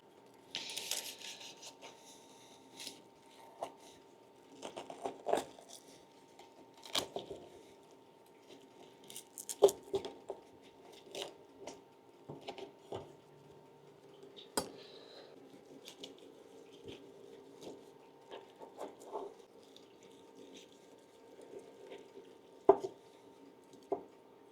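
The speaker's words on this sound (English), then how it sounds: "I'm going to slice into the breast here" Knife cutting into the breast of a spatchcocked turkey smoked on a Traeger, giving soft, scattered slicing and tapping sounds on a cutting board, fairly quiet and close, with no talking.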